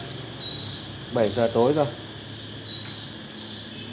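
A caged hwamei songbird chirps in several bright, repeated bursts close by, while someone talks in between.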